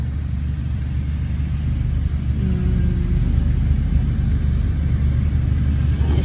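Street traffic fills the space with a steady, loud low rumble of passing cars and engines, continuous throughout with no clear breaks and only faint voices underneath.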